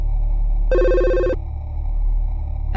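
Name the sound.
phone ringing in a visual novel game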